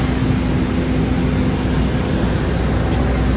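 A constant loud airplane engine drone fills the space on a second flight, with a steady low hum and broadband roar that never lets up, and no voices over it.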